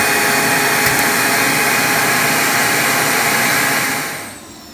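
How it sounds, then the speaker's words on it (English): The vacuum pump of a screen printing exposure unit runs as a loud, steady whine and hiss with a constant tone, then cuts off and fades near the end. "So we're gonna vacuum this down. Let it do its thing."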